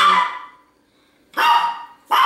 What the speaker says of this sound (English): my dogs keep getting into a shouting match with the next door neighbor's dogs